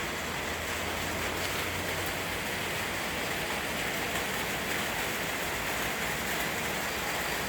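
Steady morning rain falls around a rural home in Ban Nong Ing, a dense, even hiss that holds at a constant level throughout with no voices.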